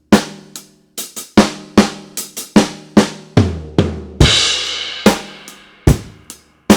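A slow drum kit groove: steady kick, snare and cymbal hits, then a brief one-measure run of floor tom strikes, with a crash washing over the fill, close and loud.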